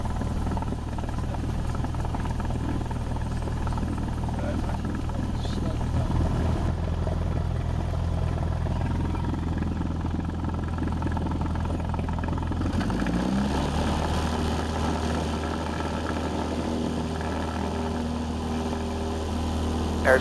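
A Cessna airplane engine roars steadily during its takeoff roll on a runway, a loud continuous droning hum heard from inside the cabin that shifts slightly in pitch partway through.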